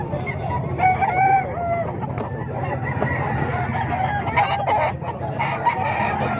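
Gamefowl roosters at a seller's stall in Bocaue crow repeatedly and cluck close by, several birds overlapping over a busy, murmuring background.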